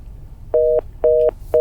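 A telephone line, hung up mid-call, gives three short, loud, even beeps of a disconnect tone over a low hum.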